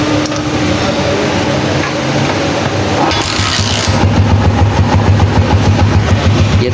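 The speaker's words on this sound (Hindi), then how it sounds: "ये दोस्तों बाइक हमारी स्टार्ट है, विदाउट एक्सीलेटर स्टार्ट है" A 2020 Honda-style CG 125 motorcycle engine, freshly restored and assembled, runs at idle without throttle: a close, loud, steady low chugging that grows stronger and more rhythmic after a few seconds.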